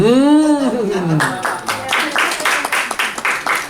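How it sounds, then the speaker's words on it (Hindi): A yoga workshop audience claps at a moderate level in a steady patter of hand claps, joining in after a voice rises and falls at the start. "तालियां"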